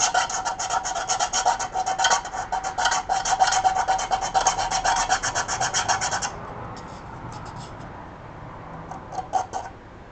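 A hand file rasps across a 3D-printed TARDIS part in quick, steady back-and-forth strokes, close and fairly loud, then stops after about six seconds, leaving only a few short, scattered scrapes.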